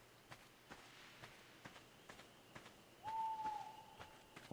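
An owl hooting at night in the ARK survival video game, a single sustained hoot arriving partway through over quiet ambience with soft, regular footsteps.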